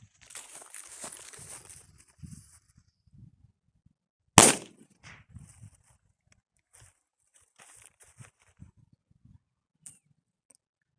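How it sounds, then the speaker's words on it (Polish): A KCE204 Achtung firecracker set off in grass explodes once with a sharp, loud bang midway, preceded by fizzing and rustling and followed by faint scattered crackles. "Teraz sobie odpalimy tą petardkę w takiej trawie i zobaczymy jakie szkody ona wyrządzi."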